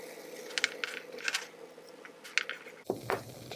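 Allen screws come out of an aluminum bracket on a 5 watt laser nozzle, giving a scattered series of small, close metallic clicks and tinkles with brief rattles, like loose hardware set down, with no talking.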